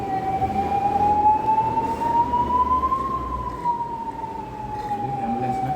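An ambulance siren wails in a slow rising and falling tone, moderately distant, over steady traffic rumble and background murmur.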